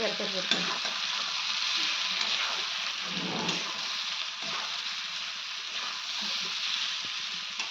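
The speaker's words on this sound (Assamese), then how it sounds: "এইকেইটা ভাজোতে টুপ টাপ কান্দিব লাগিব" Gahori pork pieces fry steadily in hot oil, a dense, continuous crackle and sizzle close by, with occasional stirring scrapes and no talk.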